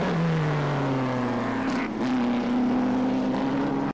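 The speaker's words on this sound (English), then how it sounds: "Here we see Hall in the Connaught lapping 58, Sutton in his Connaught" Vintage post-war Connaught racing cars lapping Silverstone in a historic race, with a loud, sustained engine drone whose pitch rises steadily as a car passes close by, then a brief dip and another steady engine note.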